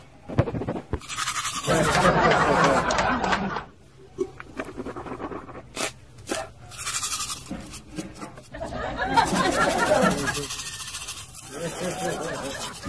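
Close scratchy scrubbing of a toothbrush in two long bursts, with a voice talking and mumbling in between.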